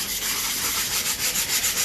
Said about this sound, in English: sanding it down and sanding the rough edges down, see?